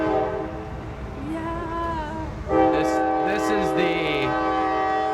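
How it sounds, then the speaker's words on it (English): A train rolls past close to a campsite tent, its horn sounding in long sustained tones that swell louder midway, with rumbling wheels underneath and people speaking briefly over it. "the train comes right by where my tent is"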